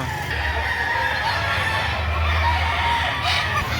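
Chickens and roosters cluck and crow at a Saturday poultry market in Lipa City, Batangas, a steady dense mix of fowl calls over a continuous low crowd murmur.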